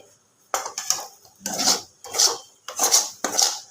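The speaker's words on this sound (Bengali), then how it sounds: "ভালো করে আর একটু আমি নেড়ে নেব মানে একদম শুকনো করে নেব" A spoon scrapes and stirs pea filling for koraishutir kachuri in a pan over low gas as it dries out, making about five close, rhythmic scraping strokes with short pauses between them.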